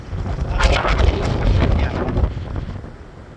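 Strong gusting wind at New Smyrna Beach roars and buffets the microphone in loud, rough surges for several seconds, with a brief spoken word.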